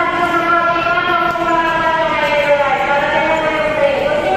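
A train runs along an elevated LRT light-rail line toward Marikina in Manila, its loud sustained tonal whine of wheels and motors holding steady and sliding slightly in pitch.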